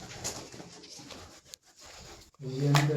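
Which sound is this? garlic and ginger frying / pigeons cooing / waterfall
pigeons cooing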